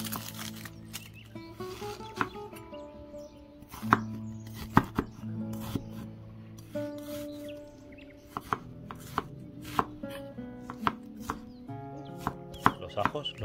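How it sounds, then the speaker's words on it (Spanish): A kitchen knife slices an onion into very thin pieces on a board for a slow-cooked marmitako, giving a long run of crisp, close, evenly paced chopping taps over soft background music. "La cebolla la cortaremos en láminas muy finas."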